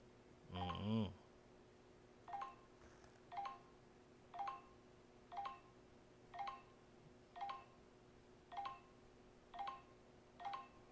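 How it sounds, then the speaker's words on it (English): A telephone rings in a steady, evenly spaced series of about nine short electronic trills, fairly faint and alone, after one louder burst of sound at the start. "Phone a ring."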